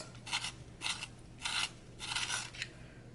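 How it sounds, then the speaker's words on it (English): Colored pencils sharpened by hand in a handheld sharpener, several short grinding bursts of rasping twists with brief pauses between, close and fairly quiet with no talking. "I'm sharpening my pencils"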